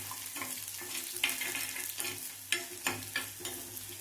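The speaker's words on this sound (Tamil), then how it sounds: "நம்ம வதக்கிக்கலாம் நல்லா. வெங்காயம் லைட்டாக வதங்கினா போதும்." Onions frying in a pan for an arai keerai kadayal, a steady close sizzle with scraping stir strokes repeating every half second or so, no voices.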